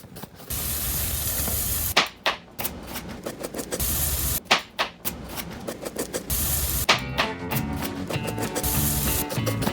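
Chicken wings laid skin side down on a hot grill give off a loud, steady hiss of sizzling, broken several times by brief clattering bumps and short dips before the sizzle resumes.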